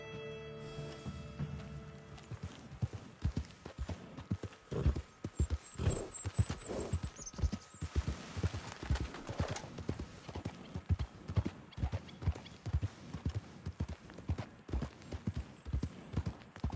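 Horse hooves clip-clopping in Red Dead Online, a steady walking rhythm of distinct hoof beats running throughout, close and clear, with a brief whinny near the start.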